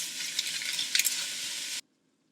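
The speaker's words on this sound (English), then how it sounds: "Then we're just going to brown the ground beef." Ground beef browns in a pan, giving a bright, steady sizzle with a few soft stirring bumps. The sound is moderate and close, then cuts off abruptly to silence just before the end.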